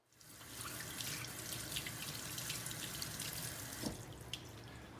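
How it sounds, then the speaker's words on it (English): A tap runs steadily into a sink while hands are washed, a continuous close splashing rush of water that starts abruptly and carries a few small splashes, with no talking. "Obviously, the first step is to wash your hands."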